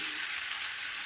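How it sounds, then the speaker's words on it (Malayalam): Cooked beef sizzles in hot oil, a soft, even, continuous frying hiss heard close but faint, with no voices. "ചൂടായ എണ്ണയിലേക്ക് ഇട്ട് കൊടുത്തിരിക്കുകയാണ്"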